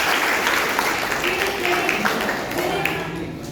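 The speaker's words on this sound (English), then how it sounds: "Give a clap to each and everyone." Students in a classroom applaud together during a life skills session, a dense, steady wash of clapping that stays loud and even for a few seconds before easing slightly toward the end.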